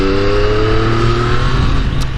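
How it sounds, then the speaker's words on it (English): A Triumph Street Triple Moto2 motorcycle accelerates, its engine note climbing in a loud, close, smooth drone with steady rising harmonics. "Oh, and it accelerates like butter."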